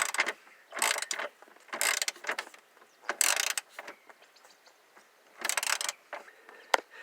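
Ratchet clicking in repeated bursts while tightening plastic-and-metal dash bolts on a Saturn Vue during heater core work, close up with pauses between strokes and no talk.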